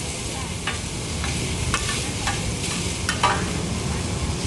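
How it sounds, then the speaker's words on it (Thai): Pad thai stir-fried at a street stall in Chiang Mai, with a steady sizzle and repeated spatula scrapes against the pan, close and continuous, with no voices. "ผัดไทย อันนี้เขาเรียกผัดไทยอะไรห่อไข่เหรอ"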